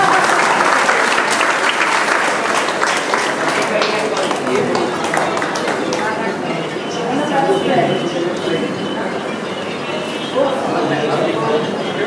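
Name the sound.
audience applause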